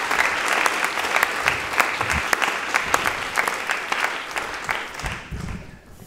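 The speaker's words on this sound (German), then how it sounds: "Ein Applaus für Grace und den Einberg." An audience applauds at a youth debate event featuring leading state-election candidates, a steady burst of close clapping that holds strongly before tapering off near the end.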